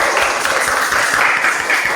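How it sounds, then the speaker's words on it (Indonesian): Applause from a classroom audience at a Hindu religious education teaching session, a steady dense wash of clapping filling the whole stretch at moderate loudness, with no voices over it. "Tepuk tangan untuk semuanya."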